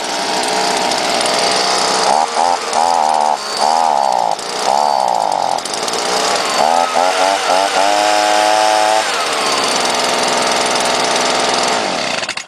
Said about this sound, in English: start and run of the Homelite ZR blower and the BG55